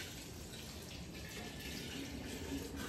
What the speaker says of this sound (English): Water is gonna get in there.